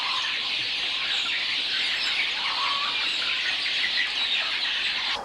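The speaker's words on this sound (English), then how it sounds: "There's about 700 birds in this house." A dense chorus of laying parent-stock chickens inside a poultry house holding about 700 birds, a steady wash of overlapping chirps, squawks and clucks at moderate loudness with no talking.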